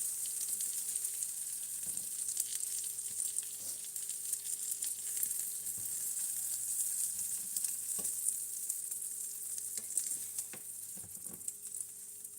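Arayes bread pan-frying in oil gives a steady, close sizzle with fine crackling throughout, with occasional soft scrapes and taps.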